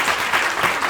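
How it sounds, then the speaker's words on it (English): An audience at a prison-organizing event gives a short, dense burst of steady clapping for a speaker who arrived late, close and fairly loud with no voices over it. "let's give her an extra round of applause"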